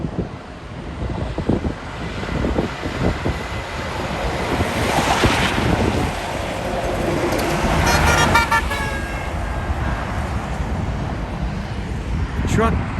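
A car horn toots in a few short blasts amid steady traffic and wind noise outdoors near railway tracks in Wilmington, California.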